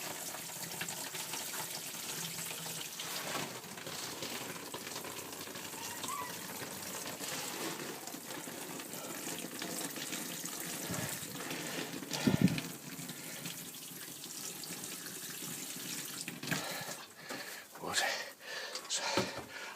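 Water pours steadily from a hose or can onto soil around newly planted tomato plants, with a few splashes and gurgles partway through.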